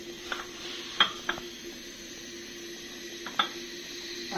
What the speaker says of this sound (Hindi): और हम इसको फ्राई करते हैं।